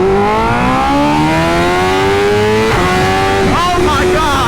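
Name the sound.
BMW S1000RR motorcycle launch control acceleration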